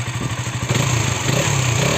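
A KTM Duke 200 BS6 motorcycle engine revving close up, a loud throbbing idle that climbs into a sustained higher rev after a moment.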